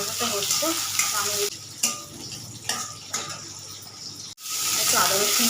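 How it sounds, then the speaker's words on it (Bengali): Fish frying in a pan with a steady, close sizzle, broken by brief pauses and a few sharp clinks of a utensil scraping and stirring. "এদিকে মাছ ভাজাটা হচ্ছে"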